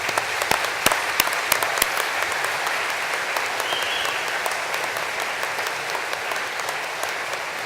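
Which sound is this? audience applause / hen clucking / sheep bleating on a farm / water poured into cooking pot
audience applause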